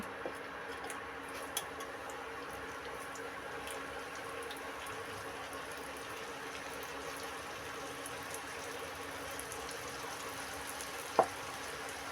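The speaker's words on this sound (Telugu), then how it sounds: "నేను అన్నీ మొత్తంగా వేసి ఫ్రై చేస్తున్నానండి నూనె బాగా వేడిలో ఉంది" Tene mithayi sweets frying in very hot oil give a steady, soft, even sizzle with faint bubbling that continues throughout, broken only by a single brief click near the end.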